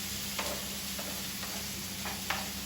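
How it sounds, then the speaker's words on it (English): Scallions, onions, peppers, garlic and tomato fry in a pan for cauliflower fried rice, with a steady sizzle and a few light scrapes and taps from stirring. "I will stir this in. While this is frying"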